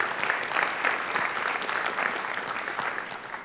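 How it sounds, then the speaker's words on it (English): Audience applause at a robotics and AI technical paper session, a dense, steady clapping from a full room that holds at an even level throughout with no speech over it. "One more time, clapping."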